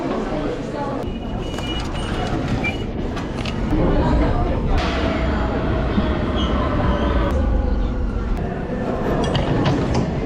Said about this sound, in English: Just making our way to the tube station so we can go to Vatican City.